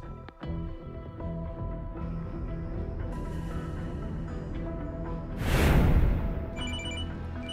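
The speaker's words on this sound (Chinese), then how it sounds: "来，我们现在接近第二通电话。" A telephone rings for an incoming call in a Chinese TV music show studio, its steady electronic ringing tone heard alone and clearly, with a louder noisy burst partway through.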